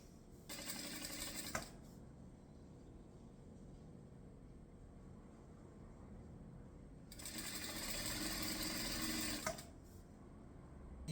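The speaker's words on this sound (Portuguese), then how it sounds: "E aí, vai passar uma costura de pé de máquina aqui embaixo." Sewing machine stitching the bottom seam of a patchwork oven mitt, two sustained runs of rapid needle clatter a few seconds apart, close and steady against a quiet room with no talk.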